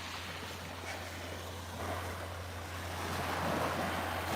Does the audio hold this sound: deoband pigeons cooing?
no